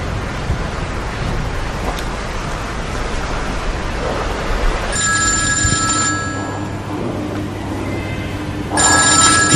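Telephone ringing in a quiet room, two bursts of electronic ringing separated by a pause, clear and close over a faint background hiss.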